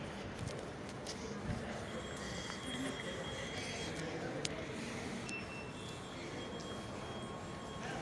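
A metro train rumbles through a station with a steady, moderately loud wheel roar and faint high squeals and clanks.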